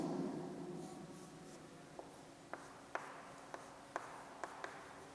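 Chalk taps and short scratches mark out a chemistry formula for phenol on a board, a handful of sharp, separate strokes in a quiet room after faint low background noise.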